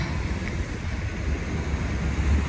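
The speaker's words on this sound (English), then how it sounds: "It's a main road." Traffic on a main road on a freezing winter day: a continuous low rumble of passing vehicles, close and fairly loud, swelling slightly toward the end, with no talk.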